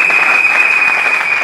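A church congregation breaks into loud, steady applause, a dense wash of clapping that carries on unbroken for the whole short stretch.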